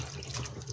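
Tap water running and splashing into a pot of rinsed butternut squash in a home kitchen, a steady close hiss with slight fluctuations, no voices over it.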